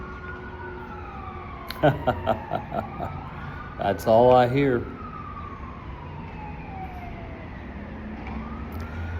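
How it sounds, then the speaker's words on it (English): Emergency vehicle sirens wail across a city street in Mecklenburg County, rising and falling over steady traffic hum, with a person talking briefly partway through. "This is what I hear all the time."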